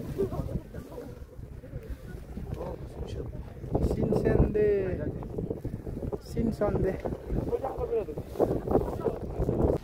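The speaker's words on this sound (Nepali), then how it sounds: "हावा कस्तो चलेको यार" Cold wind gusts along a mountain trail on Bukhansan near Seoul. It makes a low, buffeting rumble against the microphone and grows stronger midway, while hikers talk over it.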